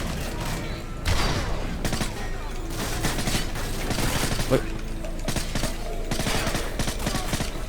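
Sustained automatic fire from an M5 rifle in Call of Duty Modern Warfare 3, loud continuous bursts with overlapping explosions and impacts filling the whole stretch of gameplay.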